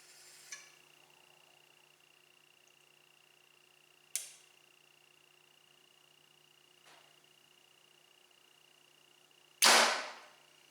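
A compound bow releases arrows at a target in three sharp, isolated thwacks spread across a quiet stretch, with a steady faint hum underneath and a final louder, fuller impact near the end.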